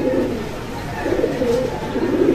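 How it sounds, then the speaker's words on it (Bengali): A pair of jeera pigeons coo in low, repeated rolling calls, close and steady against a faint background murmur. "এই যে একটা জিরাওয়ালা পেয়ার দেখতে পাচ্ছেন ডাকাডাকি করতেছে"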